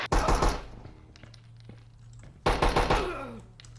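Two loud bursts of gunfire and impact in the tactical shooter Door Kickers 2, a sniper shot and a door breach fired together, one at the start and a second heavy burst with rattling debris about two and a half seconds later.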